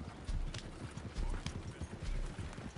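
Galloping horse hooves in the Red Dead Redemption 2 video game, a rapid, steady clip-clop rhythm of hoofbeats running throughout, with a faint whinny and a little speech in the background.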